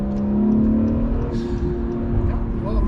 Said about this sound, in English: Those turbo noises are amazing.